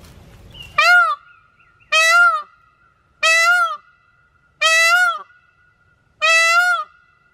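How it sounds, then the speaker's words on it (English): A peacock screams five times in a row, loud, close and evenly spaced, each call a harsh, drawn-out honking wail with nothing else heard between them. "Sound of a peacock is called scream."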